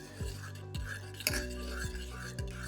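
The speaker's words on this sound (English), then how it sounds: "give that a stir" Butter being stirred into a yeast mixture for homemade teacakes, with a spoon clinking against a bowl in four or five regular rhythmic strokes, close and fairly quiet over a faint hum.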